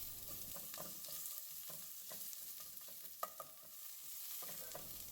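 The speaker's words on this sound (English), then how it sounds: "now I'm going to saute a 1/4 of a medium-sized onion that I've thinly sliced and 1 dried bay leaf" Thinly sliced onion and a dried bay leaf sauté in oil over medium heat, giving a soft, steady sizzle broken by light stirring scrapes and a few small pops, quiet and close with no talking.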